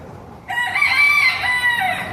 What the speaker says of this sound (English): oh my God, see the chicken?